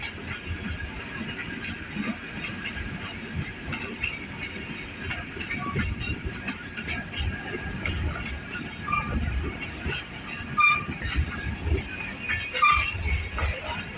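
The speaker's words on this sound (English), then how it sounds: "EMD है वाकई ज़बरदस्त एक्सेलरेशन पकड़ी एकदम से" An EMD diesel locomotive hauls a passenger train as it accelerates on rough track toward Landi junction, a steady close rumble of wagons with wheel clatter and occasional squeals rising over the continuous roar.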